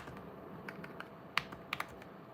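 Light, sparse keystrokes on a computer keyboard, a handful of irregular clicks with a couple of sharper taps, faint against a quiet room hum.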